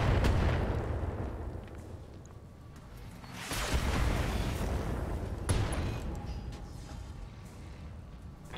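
Mech autocannon and LRM missile fire in the BattleTech game: heavy booming blasts with rumbling tails, a big surge in the middle and another sharp hit near the end, loud and close, no talking.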